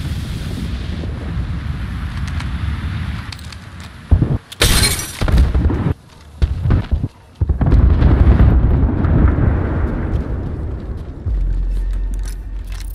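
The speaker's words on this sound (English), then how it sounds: "Throwing thermite grenade." A thermite grenade goes off in the game Apex Legends with a loud, broadband burst amid a noisy, rumbling firefight, several sharp crashes and dropouts cutting through the continuous roar.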